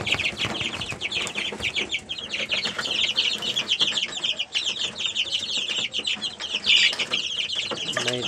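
Chickens cluck and chatter continuously, several birds close by with overlapping calls, no talking.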